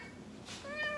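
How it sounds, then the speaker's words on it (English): A house cat named Nala gives a short meow, close and fairly soft, rising near the end over a quiet room background. "one of my cats wants to say hi"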